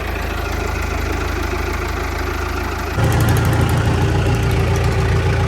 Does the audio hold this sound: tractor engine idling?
yes